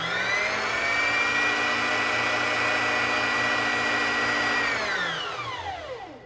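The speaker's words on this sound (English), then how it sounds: "the bobbin will start spinning and winding" A Singer Classic 44S sewing machine winds a bobbin, a steady high motor whine held for several seconds before winding down as the pedal is released.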